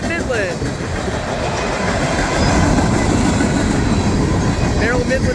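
A CSX mixed freight train hauled by a YN2 AC44 with Pan Am boxcars rolls past close by, a loud, continuous rumble and clatter of wheels on rails with brief metallic squeals.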